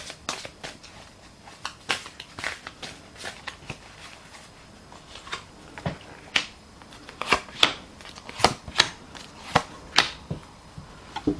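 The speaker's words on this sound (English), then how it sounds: "I'll give them a shuffle and see what we get from Doreen Virtue" Doreen Virtue cards are riffled and shuffled in repeated crisp bursts, close up, with sharp snapping flicks growing more frequent toward the end; no talking.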